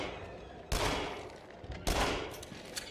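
Two loud bursts of gunfire in the video game Until Dawn: Rush of Blood, each a sharp crack followed by a decaying rumble, over quiet game ambience.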